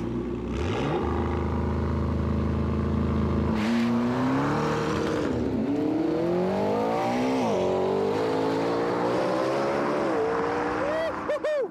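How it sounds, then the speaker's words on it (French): A McLaren 650S makes a launch-control start and accelerates hard on a circuit, its engine note climbing loudly and steadily through the gears with brief dips at each upshift, close and continuous. "je vais enclencher le launch control qui va optimiser la motricité au départ"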